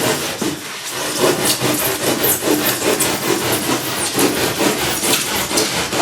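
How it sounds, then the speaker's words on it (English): Rapid rhythmic rasp strokes scrape across the surface of a DIY moose target, a close, steady, gritty back-and-forth rubbing with no voices. "we can rasp that up"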